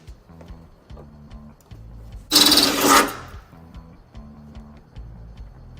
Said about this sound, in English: going to be a small pilot hole into the bumper beam